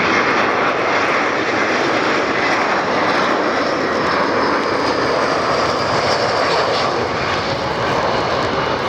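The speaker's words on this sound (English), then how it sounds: "That was a fantastic touchdown." A Spirit Airlines jet landing at Fort Lauderdale airport roars loud and steady for the whole stretch, a broad continuous engine rumble and rush with no talking.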